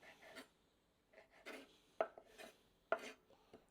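A knife chops raw clams on a cutting board in a home kitchen: a few sharp, close knocks spaced irregularly, with softer scraping between them and no talking.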